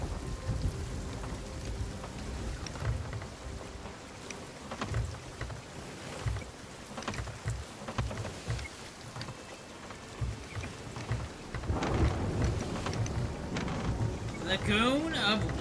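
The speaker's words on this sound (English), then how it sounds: "It's raining! We're entering the storm!" Rain and a thunderstorm at sea in the video game Sea of Thieves, with steady rain hiss, rumbling thunder and water sloshing against a ship, building louder toward the end.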